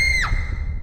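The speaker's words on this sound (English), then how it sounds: "Shortly after, we hear a scream" A sharp scream in the horror video game Ao Oni cries out with a piercing tone that quickly slides downward, followed by a low dull rumble; short and alone.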